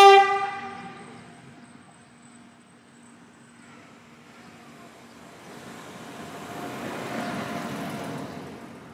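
A train horn blares at Lucca train station in Tuscany, Italy, a loud tonal blast that fades over a few seconds, followed by a rising rumble of the train rolling past.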